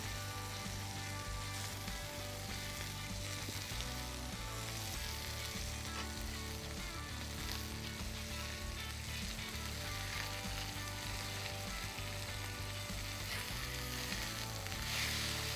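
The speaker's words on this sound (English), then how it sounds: "Get a toast on these buns." Burger buns toasting on a hot griddle beside sizzling Wagyu smash patties, a loud, dense, continuous crackle and hiss with no voices.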